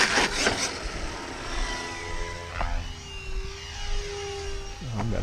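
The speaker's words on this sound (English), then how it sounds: "Oh, I've got a heli out there." A helicopter flies nearby outdoors, a steady airborne engine and rotor drone with a slowly shifting pitch sweep, heard moderately loud without speech.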